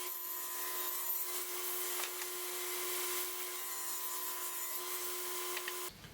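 Steady friction noise of a blade cutting through red oak wood, continuous and close, with a constant motor hum underneath, ending abruptly.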